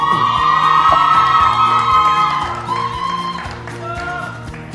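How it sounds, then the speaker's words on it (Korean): Fans at a drama awards ceremony cheer and whoop for actor So Ji-sub, a loud crowd roar with high-pitched shouts that slowly fades, while a rhythmic musical pulse plays underneath. "그는 팬들의 환호가 잦아들 때까지 묵묵히 기다렸다가"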